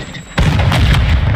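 A grenade blast in Modern Warfare 2022 multiplayer: one sudden loud boom that hits hard and rolls on as a dense rumbling roar for about a second, close and with no talk.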